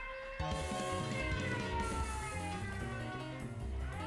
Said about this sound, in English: It's not every day that you get a klaxon siren inside a chest